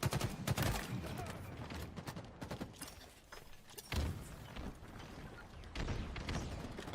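Grenade explosions and gunfire in an Empyrean capture-the-flag match, a couple of heavy booms among dense rapid shots and clattering mechanisms, loud and continuous with brief lulls.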